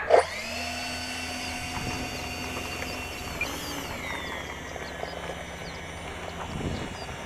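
An E-flite A-10 RC jet with twin 64mm electric ducted fans gives a sustained high whine that holds steady and then shifts pitch partway through, fairly loud and close, with no talking.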